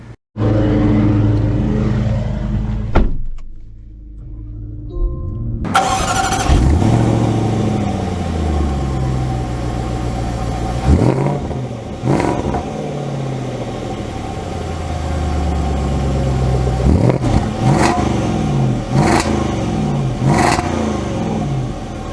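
A 2024 Jaguar F-Pace SVR with a supercharged V8 starts up and runs, its engine loud and close, rising in several sharp revving bursts over a steady rumbling idle, with no talking.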